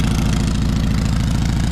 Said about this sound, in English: There's the dual exhaust on the Cushman.